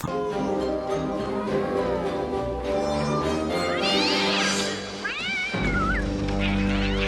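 A cat yowls and meows in a Tim Burton film scene, with drawn-out wavering cries rising and falling over an orchestral music score, close and prominent, several calls in succession near the end.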